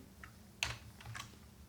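Typing on a computer keyboard while writing CSS code, a few quiet key clicks with one sharper tap, close and faint with no talking.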